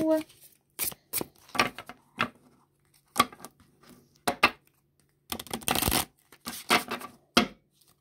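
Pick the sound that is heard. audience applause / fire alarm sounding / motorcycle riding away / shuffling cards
shuffling cards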